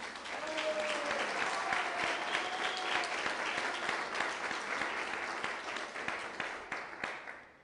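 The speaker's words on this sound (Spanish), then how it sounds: "Brindamos un fuerte aplauso para nuestro presidente municipal de Tepeaca, Sergio Salomón Céspedes Peregrina." Audience at a book presentation in Tepeaca, Puebla, giving sustained, even applause for several seconds that tapers off at the end.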